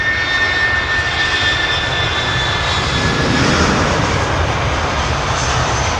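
Loud, steady roar of a jet aircraft engine at London Heathrow, a broad sustained rumble with a faint high whine, continuous and close for the whole stretch with no voices.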